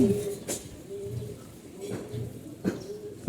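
A small red racing pigeon coos close by in soft, low, rolling phrases, with a few brief sharper sounds between the calls.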